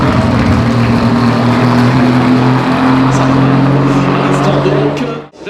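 A Toyota/Lexus GT3 race car at full throttle during Superpole qualifying at Spa-Francorchamps, a loud, steady engine drone with strong low harmonics that holds for about five seconds, then abruptly cuts away.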